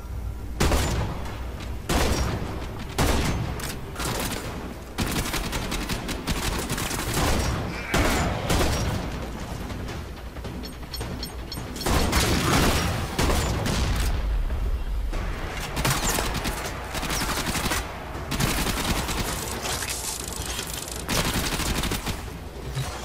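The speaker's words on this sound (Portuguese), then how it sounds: "Quem tá atirando em mim, cacete?" Sustained enemy gunfire in Warframe rattles toward the player, dense machine-gun bursts mixed with heavier booms, loud and nearly continuous with short gaps throughout.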